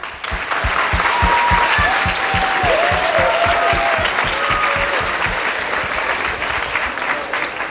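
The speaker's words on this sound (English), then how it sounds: "Let us give them a very loud round of applause." Loud, sustained applause from an audience honoring childcare staff at a Muslim community gathering, many hands clapping together with a faint murmur of voices beneath.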